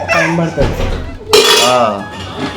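A metal lid clanks onto a cooking pot, with clinks and clatter of pots and utensils close by, and a brief burst of bright metallic scraping partway through.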